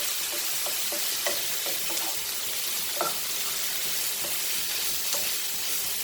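Mixed vegetables, including broccoli, frying over high flame for a Manchurian sauce: a soft steady sizzle with occasional light stirring knocks, moderately quiet and close, with no voices.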